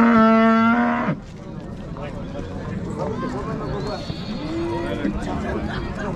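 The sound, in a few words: cow mooing at livestock market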